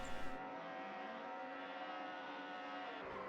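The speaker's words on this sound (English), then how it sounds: "Engines are revving." DTM racing cars on the grid at the Norisring in a racing video game hold their engines at a steady, droning rev before the start, a fairly quiet, continuous engine hum with no talking.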